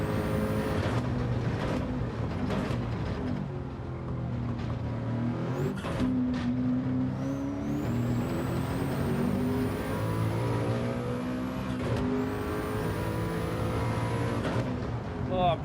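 A race car in Gran Turismo 7, held in third gear, gives a loud continuous engine drone with smooth rising and falling pitch sweeps as the revs change.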